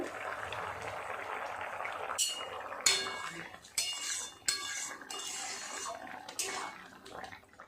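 A metal pot lid clatters several times over a pan of mutton mince and potatoes cooking with a low simmering hiss, the sharp clinks spread across the moment.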